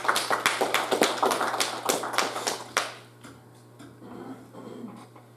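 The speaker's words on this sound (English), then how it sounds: "somebody ought to give him a hand clap of praise in here tonight" A church congregation claps hands in praise during an evening service, a burst of sharp close claps in quick irregular rhythm that thins out and fades after a few seconds, leaving a low steady hum.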